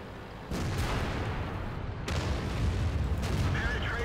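Tank cannon shots in World of Tanks boom out as two sharp blasts with lingering rumble, set against continuous low battle noise and engine drone.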